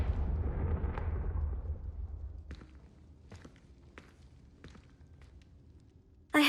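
A Confringo spell bursts in Hogwarts Legacy with a loud, deep explosive boom that rumbles and fades over a couple of seconds, followed by several sharp, separate thuds and a sudden loud burst at the very end.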